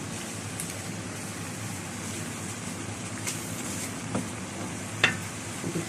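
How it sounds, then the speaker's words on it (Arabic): Meat sizzles as it is stir-fried in a pan and releases its own fat, a soft, steady crackling hiss with a few faint clinks, no talking. "اللحمه بقى لما تتشوح معاكي خالص كده بتنزل سمنتها"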